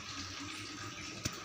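Tap water runs steadily and faintly while freshly made paneer is rinsed under cold water, a soft continuous wash with one brief louder splash near the end.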